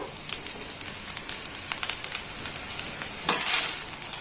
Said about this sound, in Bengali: এবার এই ভাতটাকে কিন্তু এইভাবে একটু নাড়াচাড়া করে নেব